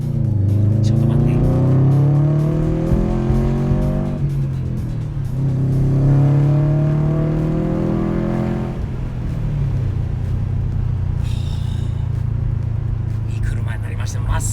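A tuned Subaru STI's engine revs hard twice with rising, sweeping pitch, loud and close, then settles into a rough, rumbling idle.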